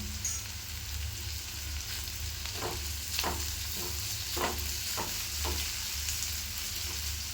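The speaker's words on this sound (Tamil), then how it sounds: "இந்த இஞ்சி பூண்டு பேஸ்ட்டு, வெங்காயம் இதெல்லாம் நல்லா வதங்கி வரட்டும்." Onion with ginger garlic paste sautéing in a pan for a veg gravy: a steady soft sizzle with several scraping stirs of a spatula through the middle, no voices.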